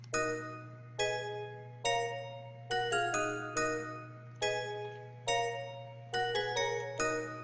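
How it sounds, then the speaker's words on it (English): A ghost bell patch from the Storch VST plays a bell pattern, clear ringing strikes with bright overtones and decaying tails, repeating in a steady rhythm with occasional quick double hits, over a low constant hum. "Here's the pattern with the ghost bell."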